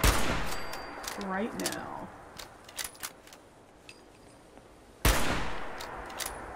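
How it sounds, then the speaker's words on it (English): Gunfire at zombies in Fallout 76: a loud burst of shots at the start, scattered sharp cracks and clicks in between, then another heavy volley near the end, with brief speech in the middle. "Oh, we got some more of those zombies over here. I'm going to just shoot them"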